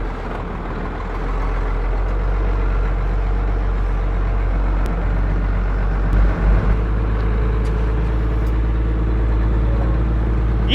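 Old pulling tractor driving in a circle: a loud, steady low engine drone runs throughout with slight load changes and a few faint clicks, no talk over it.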